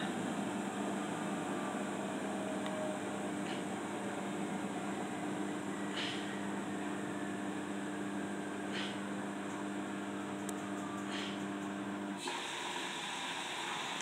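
A Bosch Serie 8 Allergy+ dishwasher runs a rinse cycle with a quiet steady hum and low tones, faint water-spray swishes recurring every few seconds, and a sudden shift in sound near the end.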